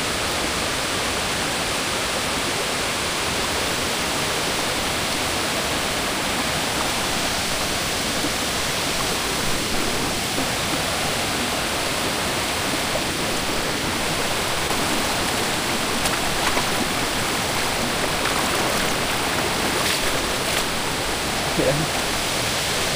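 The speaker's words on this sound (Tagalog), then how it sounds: "Ito na yung sa falls." Steady broadband rush of a waterfall in Agusan del Sur, Philippines, loud and close, filling the whole stretch with an even roar and no pauses.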